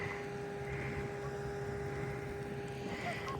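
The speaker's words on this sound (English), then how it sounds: "Minus the generator sound." Steady outdoor generator hum with a constant mechanical drone and faint tonal whine, running continuously at moderate distance in a snowy, cold setting; no speech over it.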